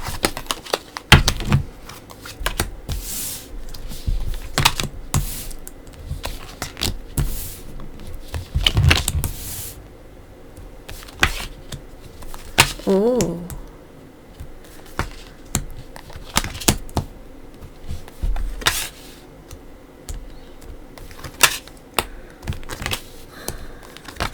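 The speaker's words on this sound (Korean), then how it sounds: "카드를 깔아보도록 할게요." Tarot cards are shuffled, slid and laid out on a table in quick irregular flurries of crisp slaps and soft shuffling, close and alone with brief pauses.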